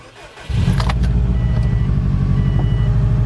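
A car engine cranks and catches, then settles into a loud steady idle close by, with no talk over it.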